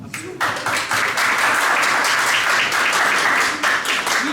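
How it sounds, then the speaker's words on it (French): Audience applause at a national science-communication competition final, a dense steady wash of clapping that swells quickly after a brief quiet start and holds at full strength throughout. "Manal me sera présentée par M. Ayman Khima, que j'appelle sous vos applaudissements"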